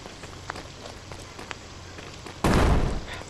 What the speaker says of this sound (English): Wait, he just threw a grenade, but it didn't hit me.